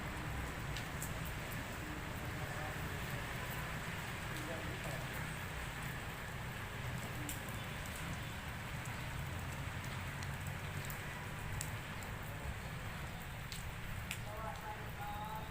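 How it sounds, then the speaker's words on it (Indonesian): Heavy rain pours down steadily in Bondowoso after a long drought, a continuous loud wash of noise with scattered sharper drip ticks throughout. "tiba-tiba hujan deras"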